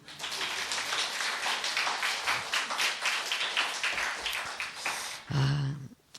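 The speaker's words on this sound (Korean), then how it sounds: "한 번 더 박수." A church congregation claps together at a women's mission society dedication service, a dense, steady patter of many hands for about five seconds before it cuts off abruptly into a short low thump.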